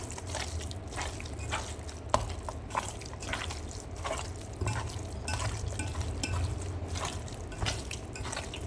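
Minced mutton kebab mixture being kneaded by hand with salt and tomato paste, giving a steady run of soft wet squelches and sticky slaps close up, with no talk over it.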